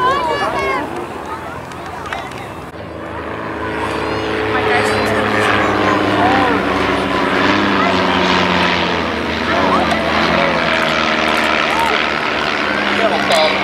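A propeller airplane passes overhead, its engine drone building from a low hum into a loud, sustained roar with shifting pitch, while a voice talks over it.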